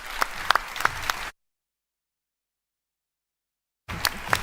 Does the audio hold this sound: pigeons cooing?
no